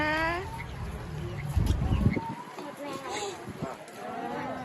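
Chickens clucking among farm animals at a children's play farm, with a cow lowing too; the calls come in short bursts while people talk and other animals sound close by.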